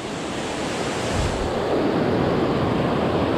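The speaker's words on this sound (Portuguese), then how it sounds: "dá pra ouvir o barulho da cachoeira aqui pra baixo" A steady, broadband roar of rushing water from the Cachoeira do Cantor waterfall in Apucarana, Paraná, Brazil, continuous and fairly loud, heard from nearby, with no voices.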